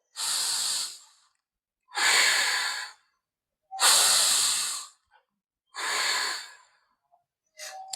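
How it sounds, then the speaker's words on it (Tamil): Deep slow breaths during a lying-down yoga exercise for sciatica, four long airy exhales in an even rhythm with quiet gaps between, close and clear. "படுத்துட்டு நல்லா ரெண்டு மூச்சு இழுத்து விடுறோம்"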